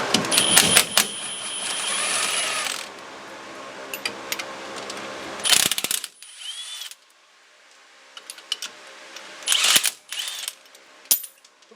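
Impact driver spinning lug bolts off the rear drum brakes of a 1999 Chevy pickup, several loud whirring, rattling bursts separated by short pauses and quiet clicks, with no talking.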